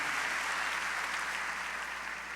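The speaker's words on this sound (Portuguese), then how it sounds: "quantos querem aplaudir esse homem de Deus, essa família linda e maravilhosa?" Congregation applauding steadily in an evangelical Assembly of God church during a praise congress, a dense continuous wash of clapping that fills the room without a break.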